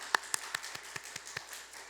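A church congregation applauds. The quiet clapping comes in a steady rhythm of about five claps per second, with no voices.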